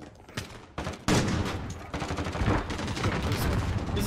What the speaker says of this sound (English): This is a pink SMG.